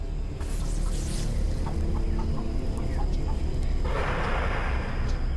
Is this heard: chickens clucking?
yes